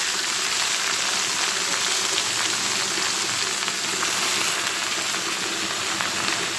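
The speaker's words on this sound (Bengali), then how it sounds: "এখন আমি শাকগুলি দিয়ে দিব" Leafy greens hit hot oil in a wok with garlic and dried red chilli, giving a loud, steady, close hiss of sizzling that holds unbroken throughout with no talking.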